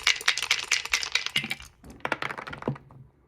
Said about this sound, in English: Now, let's roll some dice.